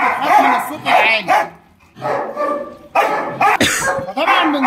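A crossbred dog barks repeatedly in loud, close bursts with short pauses between them, under a training test for fear of noise and plastic.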